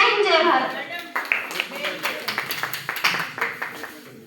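An audience applauds at a school programme at a girls' inter college, with a burst of scattered, fairly close clapping under continuing speech.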